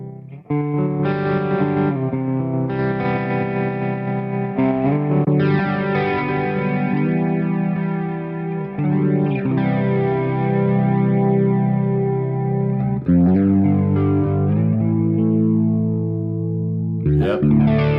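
Electric guitar played through a Valeton GP-5 clean amp model, heard alone as sustained chords and arpeggiated notes with shimmering chorus and echo-like effects, loud and continuous with a few changes of chord.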